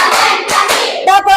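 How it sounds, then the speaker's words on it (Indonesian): Children in a classroom icebreaker clap hands in a counted rhythm, a few sharp claps spaced apart, close and loud, with a voice briefly heard near the end. "Coba tepuk 1, tepuk 2, tepuk 3, tepuk 4"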